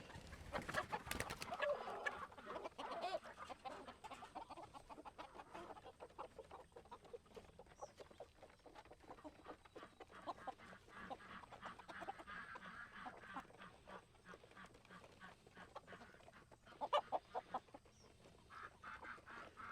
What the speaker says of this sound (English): I start with letting the silkies and the Polish crested chickens out